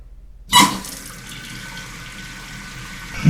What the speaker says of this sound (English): Let's turn our water back on.